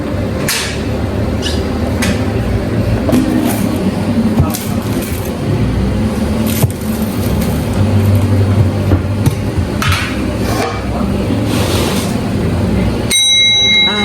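A service bell at a Russian pizza shop on Zhongyang pedestrian street in Harbin gives a bright ding near the end, following a stretch of busy kitchen clatter and clanks.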